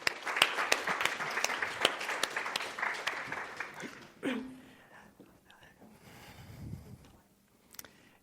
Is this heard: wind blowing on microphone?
no